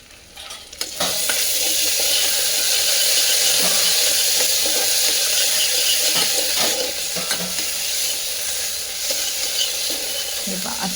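Ginger-garlic paste frying with golden-brown onions for a Marathi chicken rassa: a steady, loud sizzle and hiss that continues throughout, broken by several sharp scrapes and clinks from stirring in the pan, with no talking.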